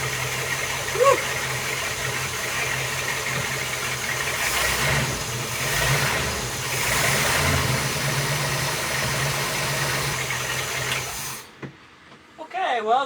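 An old yacht's big-block marine engine idles with a steady, rumbling mechanical drone and faint ticking, running continuously before cutting off near the end; a voice is briefly heard.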